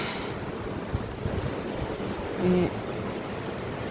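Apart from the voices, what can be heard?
river flowing in a forest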